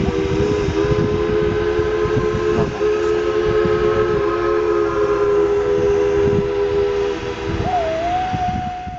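A long, steady steam whistle on Nickel Plate Road 765 blows over the chuffing rumble of the steam locomotive, briefly dipping in pitch near the end.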